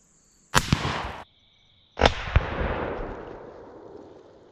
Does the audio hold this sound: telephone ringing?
no